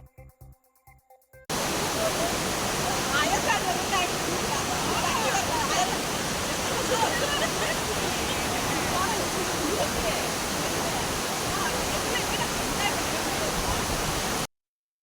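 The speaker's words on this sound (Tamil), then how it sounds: "கவி அருவியில் தொடர்ந்து 3வது நாளாக வெள்ளப்பெருக்கு ஏற்பட்டுள்ளது" Kavi falls in flood, a waterfall roaring loud and steady with dense broadband rush of water continuing unbroken after a brief faint opening.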